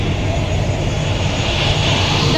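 IndiGo airliner parked at Bangalore airport, a steady, broad aircraft engine roar that stays even throughout, with no voices over it.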